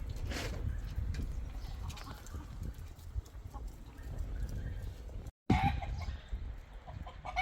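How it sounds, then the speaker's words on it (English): Chickens cluck around a farmyard in Guanajuato or Michoacan while a rooster crows, moderately close over steady outdoor background noise, with a brief dropout near the end. "Here's our chicken."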